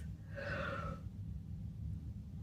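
A person yawns once, a short breathy gasping inhale with a drawn-out voiced tone lasting about a second, close and fairly quiet over a steady low room hum, then fading into background noise.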